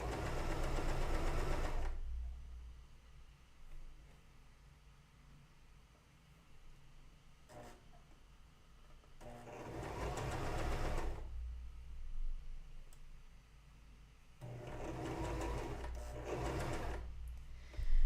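Three separate runs of a sewing machine stitching French seams, each a few seconds of fast, close mechanical whirring, with quiet pauses between them.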